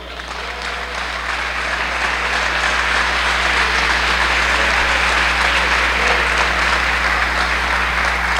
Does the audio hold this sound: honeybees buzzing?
no